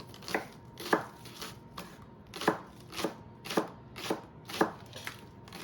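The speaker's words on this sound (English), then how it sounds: "When you're cutting the white parts, you want them to be thinner because they're a little more tough." A knife chops fresh scallions (green onions) on a cutting board, slicing the tougher white parts thinly for pad thai: about ten crisp, evenly spaced strikes, close and clear, with no talking.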